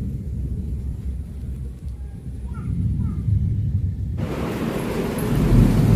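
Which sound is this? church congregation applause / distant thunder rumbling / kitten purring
distant thunder rumbling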